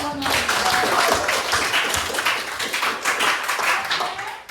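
A classroom of students claps together, with brisk, dense hand claps that are loud and close and continue steadily, while a voice can be heard faintly underneath.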